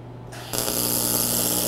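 Aluminium being welded with alternating current: after a brief quiet start, a steady, close, loud electric buzz with a low hum kicks in and holds to the end.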